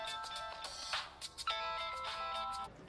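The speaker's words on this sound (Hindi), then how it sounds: "ये उसी का फोन है।" A mobile phone rings in a Hindi action film scene, its bright electronic ringtone looping through short melodic phrases at moderate volume with nobody speaking.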